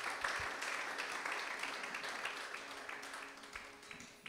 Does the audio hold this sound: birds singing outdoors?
no